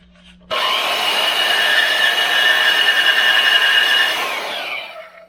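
A portable band saw cuts through a steel rock slider, a steady loud grinding whine of blade on metal that starts abruptly and holds for about four seconds before tapering off.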